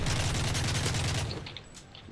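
Rapid automatic gunfire from an overpowered, zero-recoil gun in Modern Warfare 3, a fast steady burst of shots for over a second, then fading into scattered mechanical clicks and game noise.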